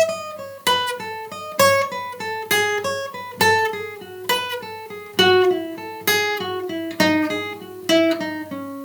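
Guitar exercise played as repeating five-note phrases accented in groups of three, clear plucked notes with ringing harmonics, steady rhythm with regular accents, close and alone.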